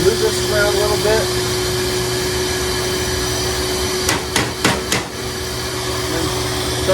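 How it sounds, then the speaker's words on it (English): A vacuum seeding machine in a greenhouse runs with a steady droning hum and a constant low tone, close and continuous, with a few brief clicks and taps partway through and no talking. "Make sure the vacuum is on."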